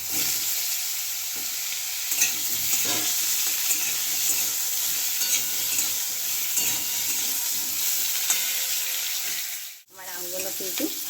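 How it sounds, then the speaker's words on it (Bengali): Raw green mango pieces fry in oil in a pan for a Bengali sour mango dal, with a steady close sizzle and occasional stirring scrapes, then a brief dip and a return of the sizzle near the end. "আমটাকে অল্প করে ভেজে নেবো"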